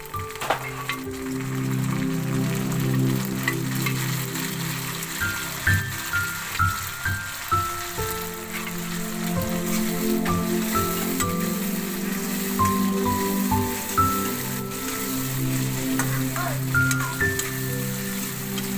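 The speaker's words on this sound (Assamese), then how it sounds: "আলু আৰু বিলাহীখিনি ভাজি ল'ব লাগিব।" Potatoes and tomatoes fry in a hot pan on a gas stove for arhar dal, giving a steady, close sizzling crackle beneath continuous background music.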